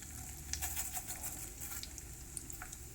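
Chana dal and urad dal dry-roasting in a pan give off a soft, steady patter and faint crackle, with occasional light clicks as the lentils are stirred.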